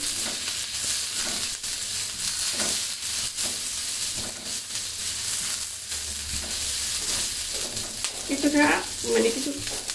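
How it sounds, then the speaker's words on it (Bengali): Vegetables and spices frying in a pan over medium heat for a chicken dish, a steady close sizzle with brief stirring scrapes throughout. "এটা মিডিয়াম আঁচে ভেজে নেবেন, বেশি আঁচ দিলে কিন্তু আমার সাইড দিয়ে পুড়ে যাবে মশলাগুলো"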